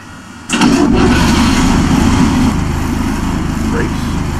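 A large Karosa S11 bus engine in the OMSI 2 driving simulator cranks and catches with a sudden roar, then settles into a steady, loud rumbling idle close up.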